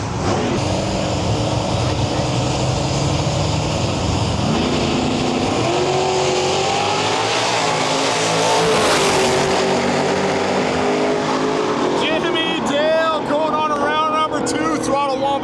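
Drag race cars in a Lil Gangstas invitational class roar down the track in one steady, loud engine drone that swells midway, with an announcer talking over the noise near the end.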